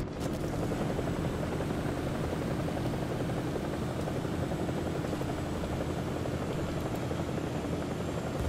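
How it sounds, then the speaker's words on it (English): An AH-1Z attack helicopter in the War Thunder video game flies nearby, its rotor producing a loud, continuous chopping roar that stays steady throughout, with no talking. "We got some kind of a jet up and an AH-1Z."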